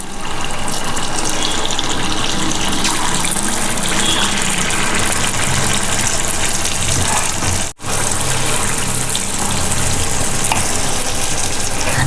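Guliyappa batter frying in hot oil, a steady loud hiss and bubbling that runs unbroken, with one brief dropout near the end and no talk.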